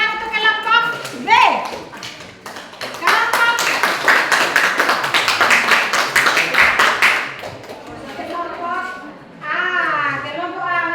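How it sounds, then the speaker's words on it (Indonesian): Children in a classroom clap for a group of classmates, a lively burst of quick, close handclaps lasting several seconds, framed by children's chatter and voices before and after. "berikan tepuk tangan untuk kelompok B"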